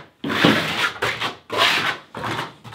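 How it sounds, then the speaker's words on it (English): The flat side of a trowel drags thin-set mortar over plywood in four loud, close, rasping strokes, each a sustained scrape followed by a brief pause. "just taking the flat side of your trowel and just working it into the plywood"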